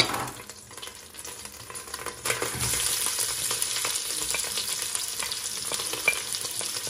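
Onions sizzle and crackle in hot oil in a pan for Swahili Mombasa pilau, with a steady frying hiss that grows louder partway through, joined by occasional stirring scrapes.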